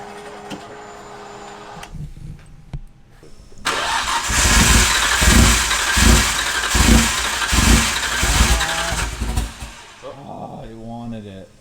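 A Nissan R34 GTR engine cranks loudly on its first start, with rhythmic starter pulses for several seconds under a broad roar, then cuts off before a voice speaks briefly at the end.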